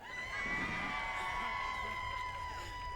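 A crowd at Michigan's 2019 inauguration cheers and applauds in a steady, moderately loud wash of clapping and shouting, with a faint ringing tone running through it.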